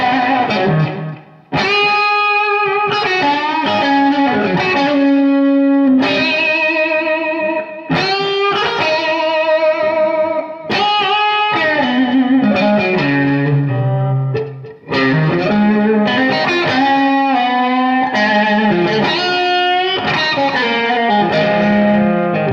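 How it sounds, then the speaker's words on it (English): Electric guitar through an Evans Nova 400 tape echo set to a basic slapback with a slight edge of drive, loud and continuous with short repeats trailing each note. "here's kind of a there's a real basic slapback. We hear that with a little edge of drive here."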